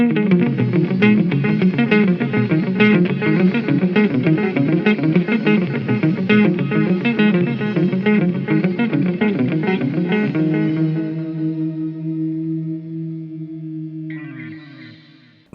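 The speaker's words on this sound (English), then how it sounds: "We're gonna go with mode 3, which is the analog delay and the shimmer reverb." An electric guitar runs through a Flamma Cymi pedal in mode 3, analog delay with shimmer reverb, fed through a POD Go effects loop. Rapid picked notes repeat for ten seconds, then a sustained chord rings out with a bright shimmering tail.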